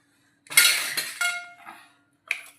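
Dishes and a spoon clink as freshly ground khursani chutney is moved onto a plate, a bright clattering burst followed by a couple of lighter taps and a final short clink after a pause.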